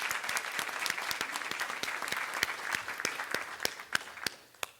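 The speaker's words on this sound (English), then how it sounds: "A round of applause for our sponsors and speakers today" Applause from a business forum audience for sponsors and speakers, a modest crowd with distinct individual claps close by, holding steady then thinning toward the end.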